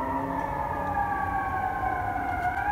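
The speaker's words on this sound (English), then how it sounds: "You can hear the fire trucks." Fire truck sirens wail steadily near a wildfire, several overlapping tones gliding slowly downward over a constant low rumble, fairly loud and unbroken throughout.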